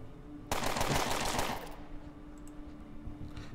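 Burst of automatic gunfire in the turn-based game Underrail, a loud rapid volley of shots lasting about a second, then fading into a low ambient hum with faint clicks.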